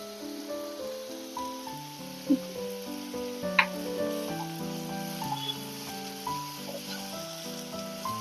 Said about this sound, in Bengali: হলুদ দিয়ে এটা বেশ সুন্দর করে লাল লাল করে একদম ভেজে নেব।